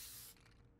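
Spray in the video game Valorant, a short, bright burst of airy hiss that cuts off abruptly after a fraction of a second, leaving faint low hum.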